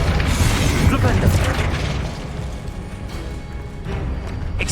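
A Flipendo spell is cast in Hogwarts Legacy, giving a booming, rumbling magical blast that is loud and full at first and then settles into a lower churning roar, with a voice heard over it.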